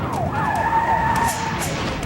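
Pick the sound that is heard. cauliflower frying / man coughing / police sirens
police sirens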